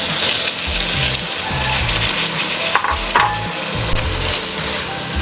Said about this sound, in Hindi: अब इसमें हम आलू शामिल करेंगे।